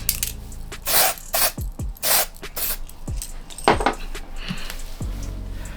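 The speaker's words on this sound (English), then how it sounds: "I'm gonna spray a little lace tint." Several short hissing spray bursts of lace tint onto a wig, mixed with clinks and scrapes of small objects being handled nearby, irregular and fairly loud.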